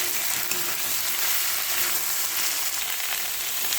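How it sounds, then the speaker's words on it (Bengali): Soybean chunks are stirred and fried in a pan with potato, a dense continuous sizzle heard close up with only slight scraping from the stirring. "তারপর দিয়ে দেবো সয়াবিন। এভাবে নাড়তে থাকবো"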